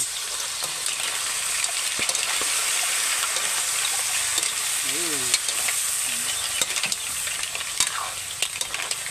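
Mussel broth hits a hot frying pan with a continuous loud, bright sizzle that holds steady throughout, brief faint voice traces underneath.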